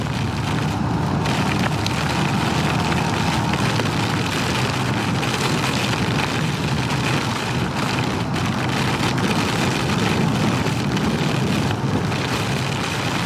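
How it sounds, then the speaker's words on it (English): Wind roars steadily in a broadband rush during a thunderstorm, buffeting loudly throughout with occasional stronger gusts around 30 mph, heard while riding a 2019 Honda Super Cub C125. "Man, this is windy."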